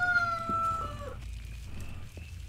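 A chicken and a rooster in the video game Force of Nature cluck and crow briefly at moderate volume over a low ambient hum, with a faint tonal game sound fading early on.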